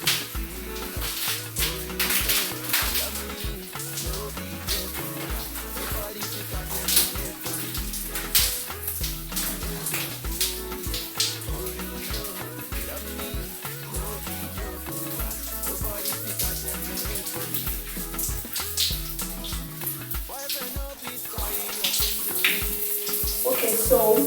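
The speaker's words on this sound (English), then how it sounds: "now that I've been able to wash and rinse out the shampoo" Water runs steadily from a tap or shower as shampoo is rinsed out of hair, a close, continuous hiss lasting the whole stretch with a soft rhythmic background beneath it.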